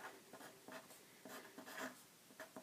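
Pen or pencil writing on a sheet of paper, short scratchy strokes in quick bursts, close and fairly quiet, with no talking.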